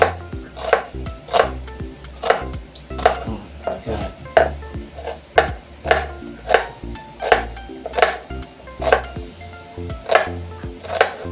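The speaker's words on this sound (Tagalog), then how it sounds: "maghiwa naman tayo ng isang buong sibuyas" A whole onion is chopped on a board while making spare ribs humba: sharp, evenly spaced knife strikes, about twelve crisp chops at a steady rhythm, close and clear with no talking.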